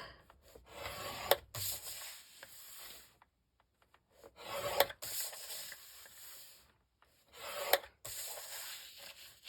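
A line is scored half an inch in around a square blank for a tic tac toe board, heard as three close, dry rasping strokes separated by short pauses.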